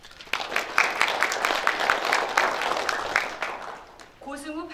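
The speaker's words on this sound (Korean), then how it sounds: "이분들께도 박수 부탁드립니다." Applause from attendees at a Journalists' Day commemorative ceremony, a steady patter of many hands clapping for several seconds before fading, with a voice starting to speak at the end.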